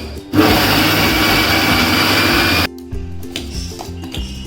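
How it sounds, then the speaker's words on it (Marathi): A kitchen mixer grinder grinds damp rice into fine flour, a loud, steady whirring roar for a couple of seconds that cuts off abruptly, followed by quieter knocks and rattles. "मिक्सरला फिरवून चांगलं बारीक पीठ करून घ्यायचे."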